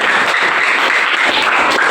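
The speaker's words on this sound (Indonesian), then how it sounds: "Oke, tepuk tangan." A group of students clapping together in a classroom, a dense, steady patter of many hands held at an even level for the whole stretch, with no clear voices over it.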